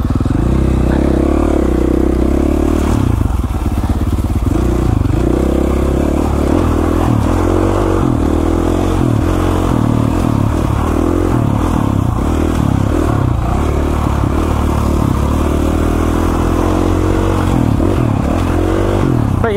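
A KTM 450 dirt bike climbs slick, rocky, steep mountain single track, its loud close engine droning and revving nonstop for the whole stretch amid clattering and scraping, with no talking.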